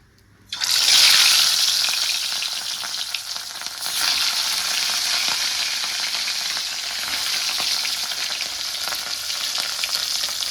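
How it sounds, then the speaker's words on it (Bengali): Dhenki fern greens hit a hot pan with a sudden loud hiss. The sizzle then settles into a steady, close frying sound with light stirring and no talk. "বসিয়েছি ঢেঁকি শাক ভাজা"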